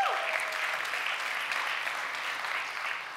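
A large crowd at a Friend Day gathering applauds in a steady, continuous wash of clapping that stays full and even from start to finish, slightly distant and reverberant.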